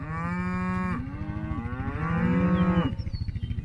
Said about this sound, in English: Got some older cows too that we need to cull out.